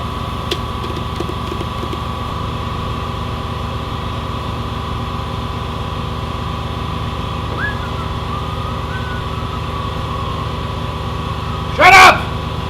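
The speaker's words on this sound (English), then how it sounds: "Sorry folks, it was an air compressor." An air compressor runs in a working wood shop, giving a steady low motor drone that continues throughout. A short sharp squeal breaks through near the end.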